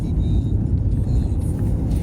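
A 57-plate car without AdBlue being driven, heard from inside as a steady, close low rumble of engine and road noise with faint talk mixed in.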